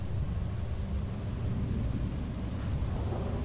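A blight storm in the Skywind game, heard as a constant low, rumbling wind roar with a dense, steady wash of noise throughout and no voices.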